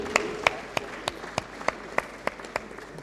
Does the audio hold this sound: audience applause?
yes